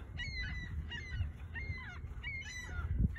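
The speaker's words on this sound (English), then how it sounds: "Yeah, seagulls." Seagulls call outdoors on a walk in Thunder Bay, Ontario, a series of four or five harsh honking cries repeating steadily over a low rumble of background noise, with no speech.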